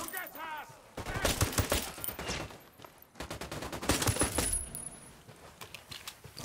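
Gunfire in the tactical shooter Ghost Recon Wildlands: dense bursts of rapid automatic shots in two long volleys, fairly close and loud, with brief lulls between them.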